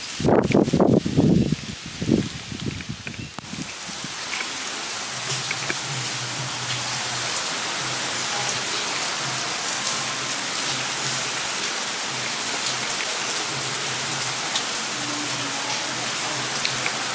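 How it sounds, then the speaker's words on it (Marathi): Heavy rain pours steadily as a dense, continuous hiss, loud and unbroken after a few seconds of brief clatter and movement at the start. "आला पाऊस, हे बघ आता किती आला"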